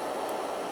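A portable gas camping burner on a long hose fed by an isobutane canister roars steadily at full output, a dense even hiss that holds without a break for under a second.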